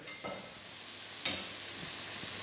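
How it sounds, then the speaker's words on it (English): A spoon stirs a breadcrumb mixture in a bowl during a junior katsu chicken cook-along, giving a soft, continuous gritty rustle with a brief louder scrape partway through. "Right, start stirring."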